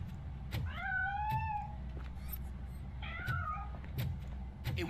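A cat meows several times in the video game RoboCop: Rogue City, with drawn-out, wavering cries over a low ambient hum and scattered clicks, close and clear.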